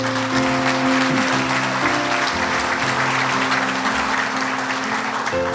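A crowd claps steadily for several seconds, a dense, sustained burst of applause filling the room with no voices over it.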